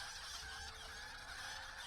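Chickens clucking inside a barn in the video game LOTRO, a steady, noisy flock sound with a dense, continuous texture and no talking.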